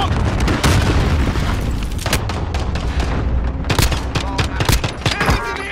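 Grenade blast and rapid gunfire in Call of Duty: Modern Warfare 2v2 combat, with heavy booms and dense automatic bursts rattling continuously and loudly throughout, sharp shot transients stacking over a low rumble.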